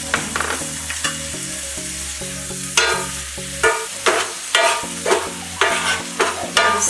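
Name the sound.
egg frying and being scrambled in oil in a pan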